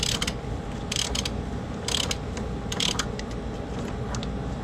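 Ratchet clicks come in short rapid bursts as bolts are worked loose on the subframe of a BMW E36 M3, heard close over a steady workshop background hum with no talking.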